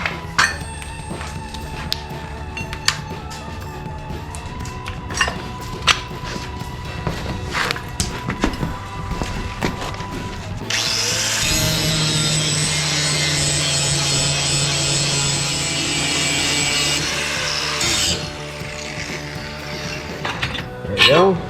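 An angle grinder cutting down the ends of steel angle pieces for a lawn tractor brush guard, a loud sustained grind of several seconds after quieter shop clatter, with someone talking.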